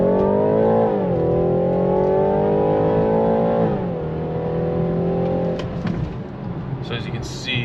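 BMW driven in sport mode, accelerating hard after a U-turn with the throttle nailed, exhaust and engine note climbing steadily in pitch, dipping at a shift, then rising again, loud and close for several seconds.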